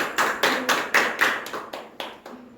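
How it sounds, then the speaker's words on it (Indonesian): Classroom clapping for a student group in an accounting lesson, about nine distinct, fairly loud claps in a loose, uneven rhythm, close by and without talk. "tepuk tangan dulu untuk kelompok 1"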